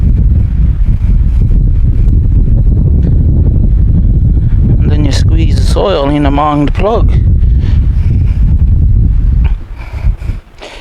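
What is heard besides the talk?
wind blowing outdoors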